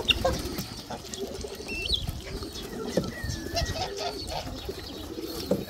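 Pouter pigeons coo softly in a loft, low throaty calls repeating irregularly with faint wing flutters and occasional higher chirps in the background, fairly quiet and close.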